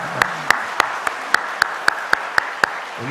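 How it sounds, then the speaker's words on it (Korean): A church congregation claps along in a steady, even rhythm of about ten sharp claps during a Sunday worship service, fairly faint and without speech. "박수 한번 할까요?"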